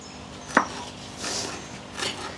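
A knife chops once, sharp and close, while ingredients for a Kerala fish curry are cut outdoors, followed by quieter rustling and a gust of wind.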